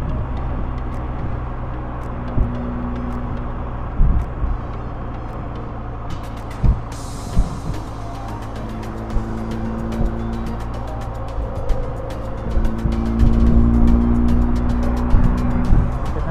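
Steady roar of heavy, congested expressway traffic in the Philippines with engines rumbling and occasional thumps and clatter, continuous and fairly loud throughout.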